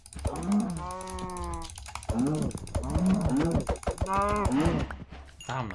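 Cows in Minecraft moo repeatedly in drawn-out, tonal calls, several overlapping within a few seconds, fairly close amid game noise.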